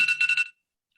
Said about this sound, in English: Sorry about that. That was my alarm.